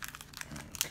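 Foil Pokemon card booster pack from an Ultra Prism tin being torn open by hand: a second of close, crisp crinkling and ripping with sharp bursts near the end, no talk.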